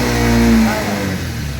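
A motorcycle engine revs near and loud, then settles back toward a lower, steady running hum as the revs drop.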